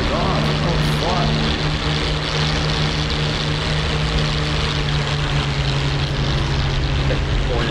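P-51 Mustang piston propeller engine in the DCS WWII flight simulator, droning loud and steady through takeoff with a strong constant tone, while voices talk over it.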